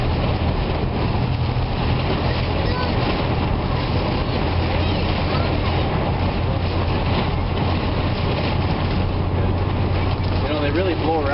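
A boxy van is driven through a storm while strong wind buffets it, making a constant loud roar and rumble with road noise underneath.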